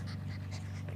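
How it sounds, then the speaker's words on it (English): Dogs panting steadily in a home, a fast rhythmic breathy pant heard close and continuous over a low hum. "there's all the dogs panting and barking"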